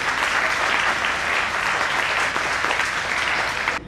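Loud, dense applause fills a hall at a district judo championship ceremony in Jalandhar, holding steady for about four seconds before cutting off sharply.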